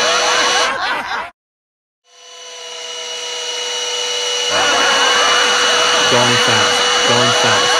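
A vacuum cleaner runs steadily and loudly with a high whine, briefly cuts out to silence, then spins back up and keeps droning, with a few faint voices under it.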